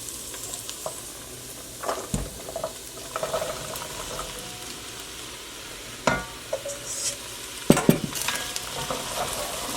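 Carrots, garlic cloves and ginger sizzle in a pot over medium heat in a small kitchen, a soft constant frying hiss broken by a few sharp scraping stirs close by.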